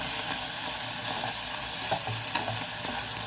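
Lardons and mushrooms sizzle steadily in a saucepan while being stirred, with a continuous frying hiss and occasional scraping clicks from the utensil, close up and without talk.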